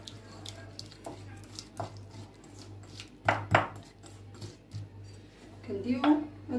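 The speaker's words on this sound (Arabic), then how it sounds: "نخلطوها مزيان" Ingredients and spices being mixed together in a bowl, with soft scraping and clinking of a utensil against the bowl in uneven strokes, fairly close, with a steady low hum in the background.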